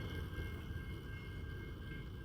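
Train rumbling past in outback New South Wales, a low continuous rolling drone with faint high squeal tones, steady and moderately close.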